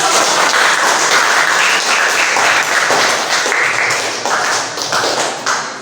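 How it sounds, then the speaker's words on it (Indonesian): Sustained applause from a classroom audience after a group's project presentation, dense steady clapping from many hands that carries on throughout, gradually thinning a little toward the end. "beri tepuk tangan"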